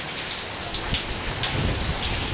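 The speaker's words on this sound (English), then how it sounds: "it's sprinkling rain" Steady rain patters hard and dense on outdoor surfaces, an even wash of drops that never lets up, with no voices.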